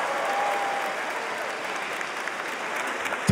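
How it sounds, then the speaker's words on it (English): Stand-up comedy audience in a large arena applauding, a dense continuous wash of clapping from a big crowd, steady and fairly distant, with no talk over it. "Okay, round of applause."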